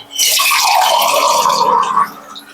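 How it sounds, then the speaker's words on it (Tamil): Water is poured into a cooking pot of rasam, a close, steady splashing pour lasting about two seconds before it tapers off. "இன்னும் கொஞ்சம் கூட நான் தண்ணி மிக்ஸ் பண்ணிக்கிறேன்"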